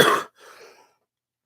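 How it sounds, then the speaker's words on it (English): A single lingering cough from someone recovering after being sick for about eleven days, one harsh close burst followed by a softer trailing breath, then silence. "it's just like a lingering cough now"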